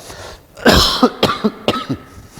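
A sharp, close cough followed by a quick series of smaller coughs in an uneven rhythm, with no talking.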